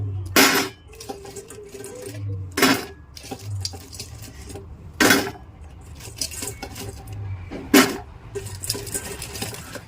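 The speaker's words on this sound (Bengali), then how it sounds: "শব্দটা আমি ইচ্ছে করে শোনালাম। আশা করি বুঝতে পারছেন কতটা ক্রিস্পি হয়েছে।" A crispy deep-fried snack is bitten into, giving four sharp, crunchy bursts spaced a couple of seconds apart, close and clear over a quiet background.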